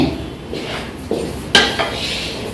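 Lemon rice (pulihora) with turmeric and salt is stirred in a pan, with a few scraping and clinking spoon strokes against the metal, close and fairly loud.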